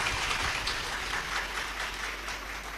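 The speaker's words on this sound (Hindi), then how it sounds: "एक बार जोरदार ताली बजाकर उनका स्वागत" A large crowd at a Shiv Mahapuran katha gathering claps loudly to welcome a guest, a continuous dense patter of many hands heard from a distance with a steady low hum underneath and no voices.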